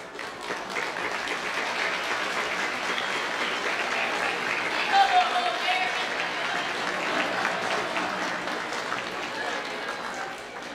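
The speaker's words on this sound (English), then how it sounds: "We can give a final round of applause" A crowd at a middle school eighth-grade moving-up ceremony claps steadily in sustained applause for about ten seconds, swelling slightly midway before easing off.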